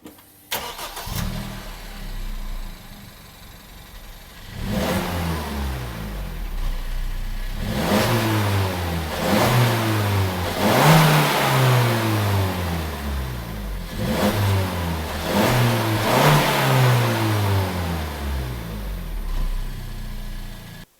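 A Suzuki Swift Sport on its stock exhaust starts and idles, then revs repeatedly in a series of rising and falling bursts, fairly subdued and close, with no talking.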